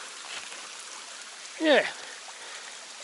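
A creek flows along a foothills trail with a steady, even rushing hiss; one short spoken word cuts in briefly partway through.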